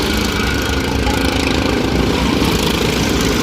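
Senior stock kart engines drone together during a 12-lap oval race, a loud continuous buzzing wall of small motors with no break or pause.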